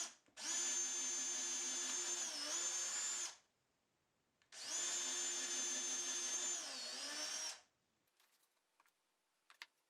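A power drill whines at high pitch in two sustained runs of about three seconds each, boring holes in wooden drawer fronts made from a 2x4, with a brief dip in speed partway through each run and faint clicks after.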